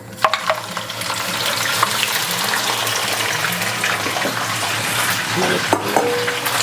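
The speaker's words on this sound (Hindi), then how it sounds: "इसे अब हम 2-3 मिनट के लिए हाई फ्लेम पे कलर चेंज होने तक भून लेंगे।" Half a kilo of mutton frying in masala on high flame, a loud continuous sizzle with stirring and scraping in the pan.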